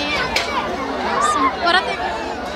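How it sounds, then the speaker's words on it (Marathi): Dense crowd chatter fills a busy place, a steady hubbub of many overlapping voices close by with occasional louder calls rising above the murmur. "बघा किती गर्दी आहे."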